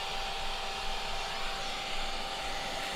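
A vacuum sucks yellow jacket wasps out from between the layers of a nest comb pulled from a closet ceiling, giving a loud, steady, close whine with no pauses.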